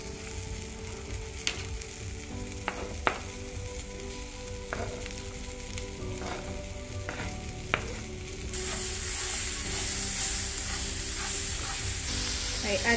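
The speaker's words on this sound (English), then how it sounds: "So now we're getting ready to add the onions." Onions frying in a pan make a continuous sizzle with occasional sharp clicks and scrapes. The hiss grows louder and brighter partway through, and no one speaks.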